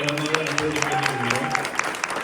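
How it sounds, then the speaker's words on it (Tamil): Applause rises from the audience at a Tamil New Year pattimandram debate event in California, steady clapping filling the hall, with a speaker's voice and musical tones running over it. "வித்யா ஜெயகணேஷ் அவர்களுக்கு நீங்க அரங்கடன கைத்தட்டுகளை"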